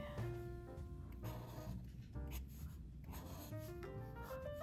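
A marker's chisel tip scratches and rubs across paper while drawing a colorful portrait, in short close strokes separated by brief pauses, with a faint tonal background.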